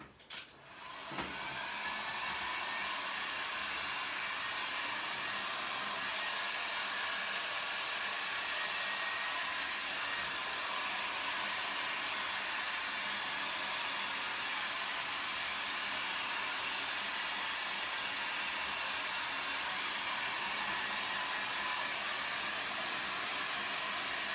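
A hair dryer blows on wet paint on a beach-hut painting; after a brief click it switches on and runs as a steady, loud, close broadband whoosh for the rest of the clip, with no talking.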